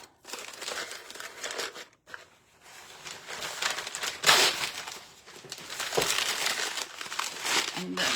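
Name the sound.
crumpling packing paper to stuff into a tin can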